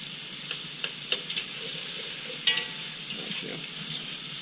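Ground meat for lasagna fries in a pan while being broken up, a steady close sizzle punctuated by scattered sharp scrapes and clicks of the utensil against the pan.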